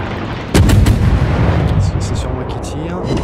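Naval gunfire erupts around the destroyer Aigle in World of Warships: a loud cluster of booming salvo shots close together, then a sustained rumbling battle din with scattered fainter blasts.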